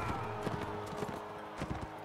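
Horse hooves clop at a gallop in the video game Mount & Blade Warband, a fast steady rhythm of moderate level over a continuous ambient bed.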